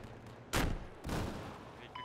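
Gunfire in the video game Battlefield 4, with two loud, close bursts of shots in quick succession that leave a lingering roar and a faint electronic tone trailing after.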